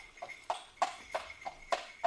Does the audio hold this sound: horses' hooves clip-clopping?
yes